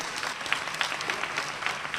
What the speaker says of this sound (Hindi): उनके लिए भी तालियां बजाएं